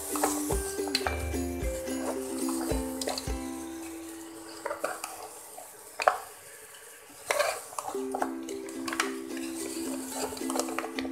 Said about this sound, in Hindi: और मसालों को पायों में अच्छी तरह से मिक्स कर लेंगे।